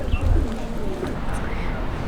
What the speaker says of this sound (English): That's my pet pigeon.